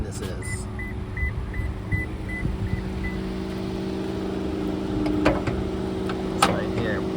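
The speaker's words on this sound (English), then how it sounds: "I can tell right away that this is a 4-cylinder engine. And it's running pretty quiet." A 2025 Lexus NX 250's four-cylinder engine idles quietly with the hood open, a steady low hum that runs evenly throughout.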